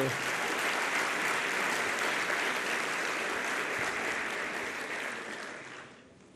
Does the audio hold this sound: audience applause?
yes